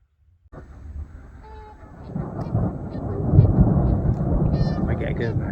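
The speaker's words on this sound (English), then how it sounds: "I don't know if you can hear that thunder" Deep thunder rumbles at night, starting suddenly and rolling on continuously, building louder and staying heavy and distant-sounding, with faint higher sounds scattered over it.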